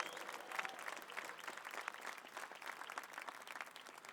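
Audience clapping at a stadium press event, a dense patter of many hands that stays steady throughout, moderately distant, with a faint voice briefly underneath.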